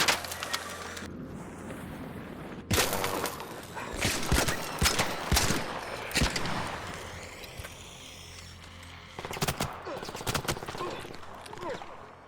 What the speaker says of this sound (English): I hit him with 3 shots there. We fired 4.